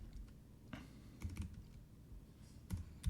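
Quiet, close typing on a computer keyboard, with short bursts of key clicks separated by brief pauses.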